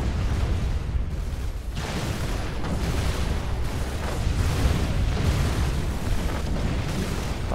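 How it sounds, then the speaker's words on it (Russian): Long-range artillery shelling in the video game Supreme Commander, a continuous dense rumble of overlapping booms and blasts, loud and sustained throughout the whole stretch. "Куда долбит моя дальнобойная артиллерия?"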